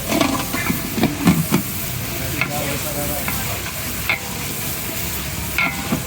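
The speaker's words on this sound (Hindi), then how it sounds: "चम्मच चलाते रहेंगे" A spoon scrapes and stirs dal mash frying in a pan, steady sizzle and hiss under a few sharp clinks of metal on the pan early on, close and continuous without voices.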